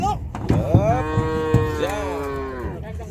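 Cattle lowing loudly at close range, several drawn-out harmonic moos in succession, as cows are unloaded from a boat at a busy village cattle market.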